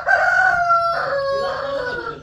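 A rooster crows loudly and close by at a rural bullock-cart racing village, one long drawn-out cock-a-doodle-doo call that rises and falls before trailing off, heard alone.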